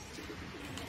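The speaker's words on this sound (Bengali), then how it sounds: "এগুলা সব আমাদের কবুতর।" Pigeons cooing softly at a home, a faint, low, repeated burble that is distant and quiet with no voices over it.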